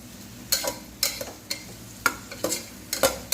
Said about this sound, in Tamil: ஒரு 5 நிமிஷத்துக்கு இதிலேயே வதக்கிக்கலாம்